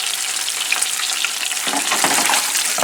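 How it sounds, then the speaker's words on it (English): Onions and garlic frying in a pan, a loud crackling sizzle with bursts of spatula stirring toward the end, close and continuous. "I'm going to put the onions and the garlic in there."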